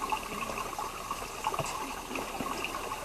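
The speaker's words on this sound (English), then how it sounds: "you can barely see water dripping enough for people" Water drips and trickles from a rock at a village water source, small irregular drips and a light running trickle, close and fairly quiet.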